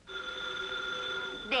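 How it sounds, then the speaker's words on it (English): A single sustained telephone bell ring, clear and steady for over a second before cutting off into a brief other sound. "Oh, there's the phone."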